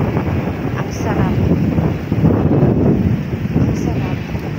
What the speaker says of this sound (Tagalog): Grabe guys, ang lakas talaga ng hangin.